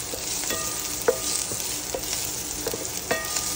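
Onions sautéing in a pan for a coconut-milk shrimp dish, a constant close sizzle with scattered clicks and scrapes of stirring, no voices.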